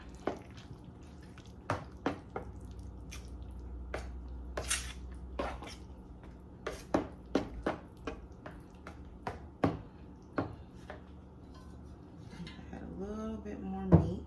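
A spoon stirs meat into a ricotta cheese mixture for lasagna roll-ups, making scattered soft clicks against the bowl and wet squishes, close and fairly quiet.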